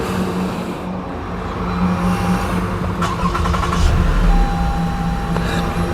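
A Lexus car engine starts and settles into a loud, steady rumble with a slight rise in revs, heard up close over continuous mechanical noise.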